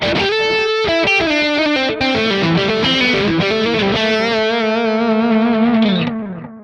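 An electric guitar plays a distorted solo line through a JOYO R-10 Nascar bucket-brigade analog delay pedal, with sustained notes trailed by layered echoes that fade at the end.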